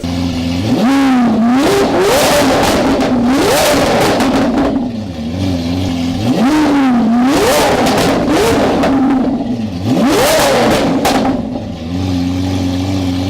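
A Lamborghini Aventador with a flame-spitting aftermarket exhaust, tuned to 800 horsepower, revs hard three times in a row, each loud rising roar falling back to a rumbling idle, very close.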